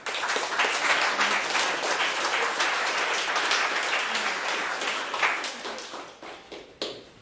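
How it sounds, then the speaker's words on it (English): Applause from the audience at a tech demo day event, dense continuous clapping that stays loud for several seconds, then thins out and fades near the end with a few last scattered claps. "Oh man, another round of applause for everyone"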